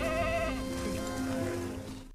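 A sheep bleats loudly and close, a single drawn-out wavering cry that trails off after about two seconds.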